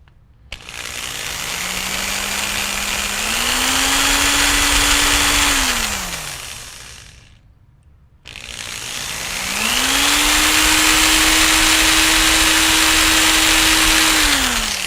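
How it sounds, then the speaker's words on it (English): A power drill boring holes during a Volantex Ranger 2000 RC plane build whines in two long runs, each rising in pitch as the motor spins up, then winding down, loud and close with a gritty grinding hiss and no talk. "we're going to drill two more."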